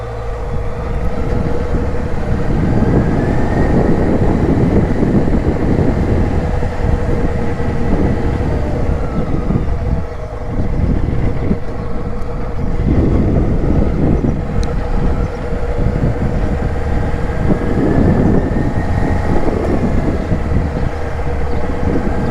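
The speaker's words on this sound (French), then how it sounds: "Un 4 cylindres qui marche bien." Honda CB650F inline four-cylinder motorcycle on its first ride, a steady loud engine drone with wind roar throughout, rising and falling gently with throttle, no talking.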